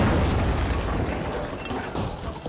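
A player-set explosion in the video game The Finals gives a loud, booming rumble that starts at full strength and slowly fades over a couple of seconds, with no talk.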